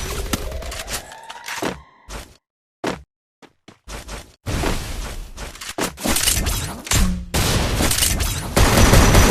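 Gunfire from a Free Fire battle royale match, loud bursts and rapid automatic volleys with brief pauses between them, growing denser and more continuous toward the end.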